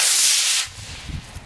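A US Army model rocket roars off after ignition, a broad bright hiss for about half a second that then drops away into low, faint rumble with a few soft thumps.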